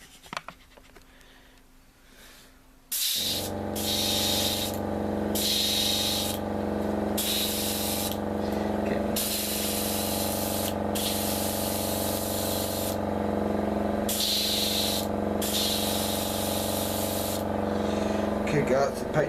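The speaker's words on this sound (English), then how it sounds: "sorry for the noise of the compressor" After a quiet start, a compressor kicks on with a steady hum while an airbrush hisses in repeated spraying bursts of varying length, painting a 1/48 Revell F-15E Strike Eagle model kit.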